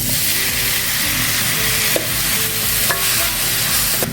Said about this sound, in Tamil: இப்போ இதை நல்லா வதங்கட்டும்